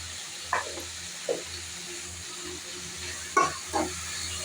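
Chicken pieces frying in oil with turmeric and salt, a steady close sizzle with a few soft stirring bursts and no talking.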